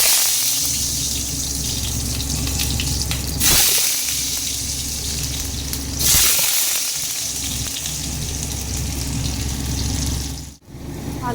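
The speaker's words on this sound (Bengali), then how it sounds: "এখন আলুগুলোকে ভেজে নিচ্ছি।" Potatoes fry in a pan for a potato chicken curry, a loud continuous hiss and sizzle close by with two brief louder bursts of crackle, then a short dip near the end.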